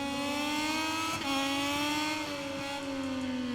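A Moto2 racing motorcycle engine in the MotoGP 22 video game, a loud steady high-pitched whine holding near-constant revs with a slight pitch dip partway through, heard alone without talk.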